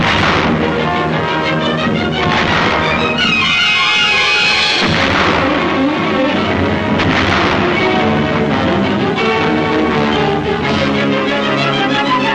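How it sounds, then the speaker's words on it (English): Japanese artillery fire during the Battle of Okinawa, a constant heavy barrage of booms and blasts rolling together, loud and dense, in an old wartime film recording. "Japanese artillery is constant, heavy, and accurate throughout the entire operation."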